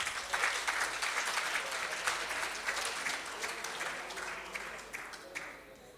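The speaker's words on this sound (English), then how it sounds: "Let's give a round of applause to Luazi." A crowd at a rugby referees' annual awards dinner claps steadily, the applause dense and sustained before gradually thinning out, with some voices faintly mixed in.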